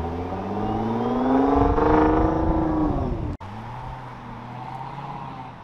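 A twin-turbo car engine revs hard nearby, its tone rising and holding in a loud climbing whine before cutting off abruptly, then settling into a lower steady idle rumble.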